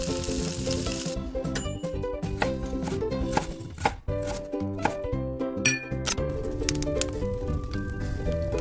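Radish greens frying in a wok with salt crackle in a busy, sputtering sizzle, broken by sharp clatters and taps, over steady tones in the background.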